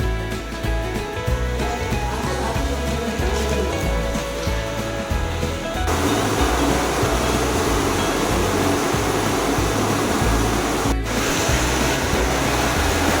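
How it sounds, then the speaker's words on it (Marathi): Dense, continuous roar of monsoon rain in Konkan and rushing rainwater, loud and unbroken throughout, growing slightly fuller partway through. "पावसाचं पाणी केवढं मोठं आलं बघून घ्या"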